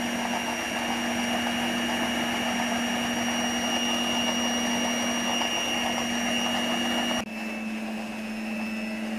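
An electric blender whirs steadily while mixing batter for torta, a loud constant motor drone with a high whine that drops slightly in pitch and loudness near the end.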